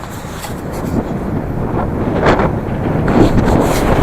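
Steady, blustery headwind roaring across the microphone while cycling in Sichuan, China, a broadband rush that swells slightly louder toward the end with no voices.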